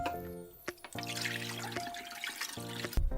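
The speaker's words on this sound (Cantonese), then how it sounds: "排骨清洗乾淨" Fresh pork ribs, cut into small pieces for steaming, are rinsed under a running kitchen tap, giving a steady near splash and trickle of water over a continuous tonal background, with a few sharp knocks.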